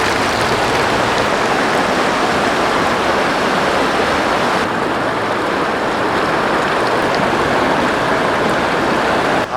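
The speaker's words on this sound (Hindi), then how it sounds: "जब हम दरिया के पास पहुँचते हैं तो पानी की इतनी खूबसूरत आवाज़ होती है" River water rushing along a riverbank in Kalam Valley after snowfall, a loud, dense, continuous roar of flowing water filling the whole stretch without pause.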